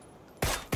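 Gunfire from the PUBG video game, heard as two sharp, loud shots in quick succession after a quiet moment.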